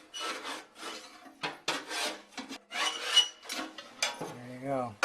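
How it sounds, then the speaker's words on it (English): Metal cleaning rods scrape soot from inside an Esse Ironheart wood cook stove, giving repeated rough rasping strokes at close range, with short pauses between strokes and a brief tonal squeak near the end. "These are little cleaning tools. And get in there. You want to scrape all this stuff off."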